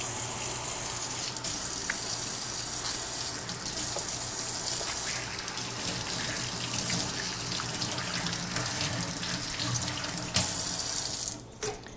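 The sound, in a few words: washing fingers under running kitchen tap water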